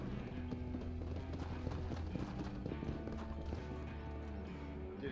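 Horse hooves in Red Dead Redemption, a steady clip-clop of a walking horse close by, rhythmic and continuous over a low ambient hum, with no speech.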